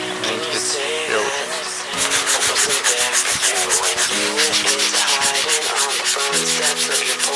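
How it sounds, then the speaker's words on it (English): Steady rhythmic sanding of body filler on a car body panel, a rough abrasive scrubbing back and forth against a hard surface, close and continuous, with a faint hum underneath. "so I'm sanding these this filler"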